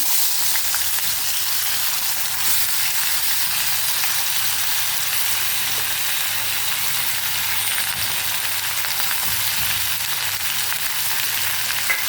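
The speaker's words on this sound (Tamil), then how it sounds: "இப்போ இந்த பொட்டேட்டோவை அதில் அப்படியே போட்டுடலாம்" Potatoes frying in a little oil in a kadai give off a steady, dense sizzle that stays loud and close, unbroken throughout with no talk.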